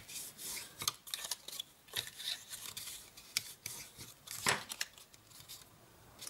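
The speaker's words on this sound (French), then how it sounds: "je viens ensuite marquer mes plis avec mon plioir en os" A bone folder firmly creases folds in paper while binding a handmade perpetual birthday calendar, producing close, dry rubbing and scraping strokes in irregular bursts, with no talk.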